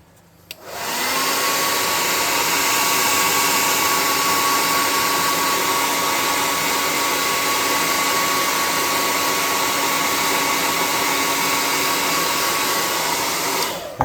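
A hair dryer blows steadily on a freshly painted miniature figure, starting after a brief pause and running as a loud, continuous whirring hiss for the rest of the clip, alone.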